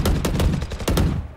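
Spectre submachine gun fire in Valorant, a rapid burst of close, loud shots in quick succession with a sharp pulsing rhythm before it cuts off.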